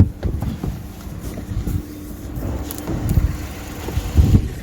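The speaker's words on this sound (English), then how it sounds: "There's that one rev." A vandalised salvage car's engine idles with a low rumble, rising into a brief rev near the end, recorded close by outdoors.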